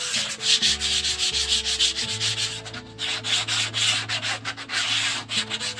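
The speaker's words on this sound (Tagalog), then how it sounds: "Liha, sandpaper." Sandpaper rubs rhythmically back and forth across a plain wooden door panel, a close, steady scratchy rasp with a low tonal hum underneath.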